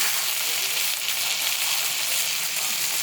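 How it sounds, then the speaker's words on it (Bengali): Eggplant fries in hot oil, a bright, continuous hiss of sizzling heard close and evenly throughout, with no voices. "এই যে বেগুনটা ছেড়ে দিলাম। বেগুনটা ভালো করে ফ্রাই করে"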